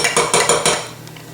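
A spoon clinks against a pot while stirring a spoonful of powdered agar into boiling water for vegan cheese: five quick, evenly spaced metallic taps close by, then quieter scraping.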